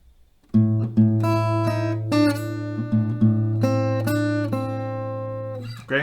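Solo acoustic guitar picking out the riff with no body-slap claps: clear single notes and ringing open strings in a steady, sustained sequence, close and fairly loud, no talk.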